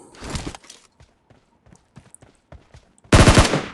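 AKM assault rifle shots in PUBG Mobile, two loud close bursts of gunfire at the start and end, separated by quieter scattered footsteps and small clicks.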